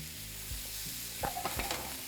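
Pumpkin frying in a pan makes a steady soft sizzle, with a few scraping stirs of the spatula near the end.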